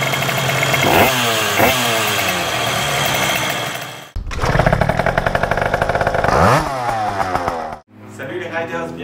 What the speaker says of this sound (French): Coup de gaz.